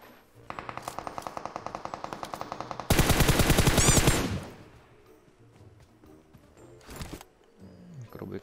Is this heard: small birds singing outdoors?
no